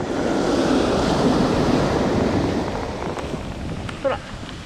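Surf washes onto the Enshunada beach during surf fishing, a loud, near, rolling rush of breaking water with wind. It eases off toward the end, where a brief voice cuts in.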